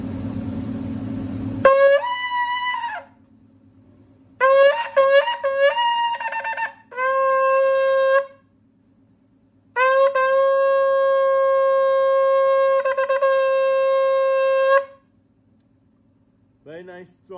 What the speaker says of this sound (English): Let's hear the sound of the shofar.